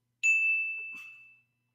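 A single clear bell-like ding rings out and decays slowly over about a second, with a faint brief rustle partway through.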